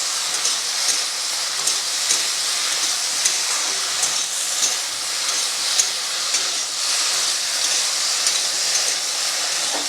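Okra frying in a pan while being stirred, a steady bright hiss of oil with faint scraping ticks throughout, close and continuous, no talking.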